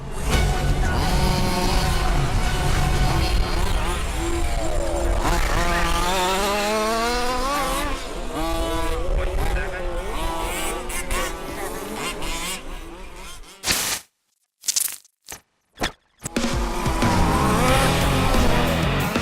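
Buzzing, high-revving engines of 1/5 scale off-road RC cars racing at the Avalon Cup, rising and falling whines close by with some tire noise, broken by a few seconds of near silence and choppy gaps before the racing resumes.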